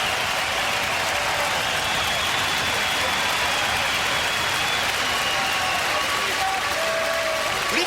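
A loud boxing crowd roars steadily throughout Arthur Abraham's fight with Jermain Taylor, a dense wall of cheering and applause from the arena with faint whistles rising near the end.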